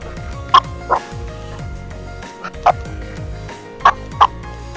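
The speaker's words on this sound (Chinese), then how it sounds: "我家的狗狗在叫， 它看到那个猫咪， 它现在正在大叫。" A pet dog barking loudly at a cat indoors: five or so sharp, short barks in irregular bursts, standing out against a steady tonal background.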